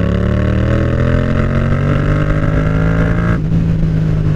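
A Yamaha FZ-07 motorcycle engine revs loud and close, its pitch climbing steadily as the throttle opens, then dropping sharply when it is released near the end.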